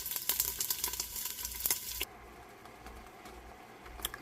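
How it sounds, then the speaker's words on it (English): Bacon frying in a pan ahead of cabbage going in: crackling sizzle with rapid pops that stops abruptly partway, leaving a faint hiss and an occasional late crackle. "the bacon is starting to get brown, so I'm going to let it cook about 1 more minute"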